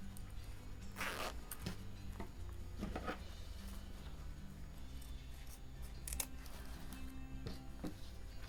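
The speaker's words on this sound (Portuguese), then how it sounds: "Então eu vou passar o cursor e cortar o excesso do zíper." A zipper slider is pulled along a fabric zipper while sewing a cloth toiletry pouch: several short, close, raspy zips come in separate bursts over a quiet background, with no speech.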